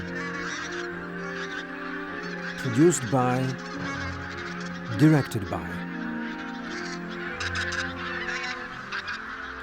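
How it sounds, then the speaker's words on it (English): A large flock of thousands of wild geese in a marsh at daybreak honks continuously as they take off, loud bursts of calls rising twice amid a dense chorus of cackling, with a voice speaking briefly. "large flocks of wild geese, numbering in the thousands, ascend into the sky and fly away in a big commotion"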